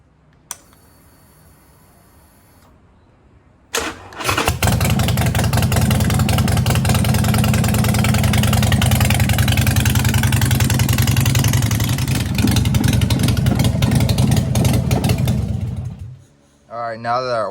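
A Harley Sportster motorcycle cranks over and fires, then settles into a loud, lumpy, steady idle close by for about twelve seconds before cutting off, with a brief voice before and after.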